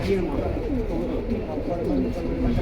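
Red-feathered military pigeons cooing at a sale, soft rolling coos repeating across the whole span over a busy background murmur of people talking nearby.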